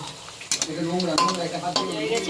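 Chicken malai kofta balls frying in a pan of oil until reddish brown, a steady sizzle broken by sharp stirring clatters and scrapes, close and fairly loud with no talk.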